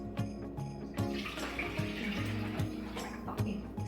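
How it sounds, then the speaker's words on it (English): Homemade bone broth pours from a one-quart jar into a pan, making a steady liquid gurgle and splash with periodic glugs, fairly quiet and close. "Just going to open the lid and just pour this 1 quart jar into the pan."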